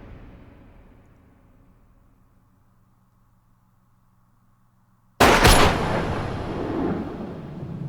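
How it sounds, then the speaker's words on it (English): Gunshots in the anime Monster: after a low, quiet stretch, a sudden loud crack of two shots in quick succession gives way to a sustained noisy roar. "Two shots."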